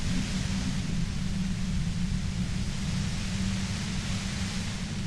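Steady hissing white-noise effect from the video game Disco Elysium, a constant loud broadband static with a heavier low rumble underneath, unchanging throughout with no talk.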